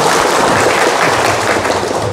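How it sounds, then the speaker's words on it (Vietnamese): A crowd at a charity gathering in Tiền Giang breaks into loud, close applause, a thick continuous patter of many hands with a few heavier thumps mixed in and no voices. "mọi người dành cho đoàn từ thiện Út ở Tiền Giang một tràng pháo tay"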